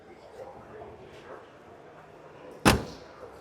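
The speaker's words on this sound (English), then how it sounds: "Wow, that door shut beautiful." Ford Mustang car door shutting at a collector-car auction, a single sharp, close slam standing out clearly above low crowd murmur and background chatter.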